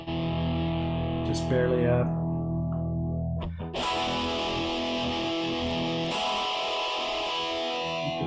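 Sustained, heavily distorted electric guitar chords ring out loudly from a VALETON Rushead Max portable mini amplifier, then a brief pause and another gritty, fuzzy chord; a voice speaks briefly.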